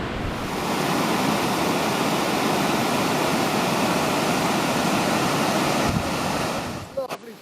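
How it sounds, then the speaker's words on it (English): Water pours over a weir on the River Thames at Benson in a steady, loud, broad rushing roar that holds for several seconds before dropping away amid brief handling knocks at the end. "There's a good chance to savour the weir, which I do love a good weir."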